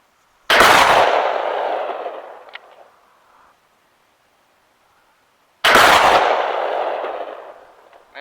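Two loud, sharp booms from a 12 gauge shotgun firing slugs outdoors, each with a long rolling echo that fades over a couple of seconds, separated by a stretch of near silence.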